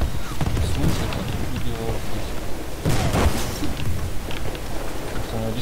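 Gunfire and explosions in the video game Battlefield Bad Company 2, with repeated shots and booming blasts in a dense, noisy battle mix, louder bursts near the start and around three seconds.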